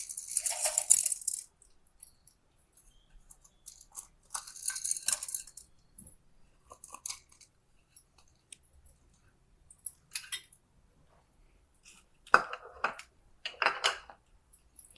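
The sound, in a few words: mustard seeds spluttering in hot oil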